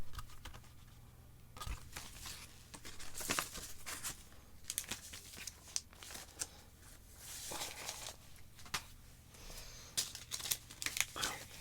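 A thin paper sleeve of a 7-inch vinyl single is handled up close, giving soft, intermittent crinkles, rustles and light taps with no talking.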